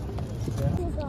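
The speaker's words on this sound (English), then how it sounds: "Horses." Horse hooves clip-clop on pavement near the Eiffel Tower in Paris on New Year's Eve, a brief, faint patter of steps under crowd murmur and nearby talking.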